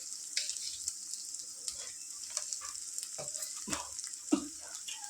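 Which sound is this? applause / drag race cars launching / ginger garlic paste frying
ginger garlic paste frying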